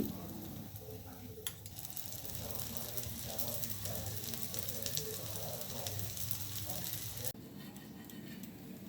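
A thin plain dosa crisps on a hot pan after oil goes on, giving a steady close sizzle with a soft crackle that holds evenly through the clip before cutting off sharply near the end.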